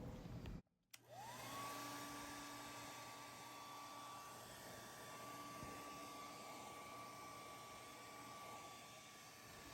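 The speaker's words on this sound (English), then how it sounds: "I thought I might try a blow dryer to see what I can get out" A handheld blow dryer runs steadily at close range, blasting dust out of a refrigerator's condenser coils, its high motor whine holding constant for the whole stretch after a brief click at the start.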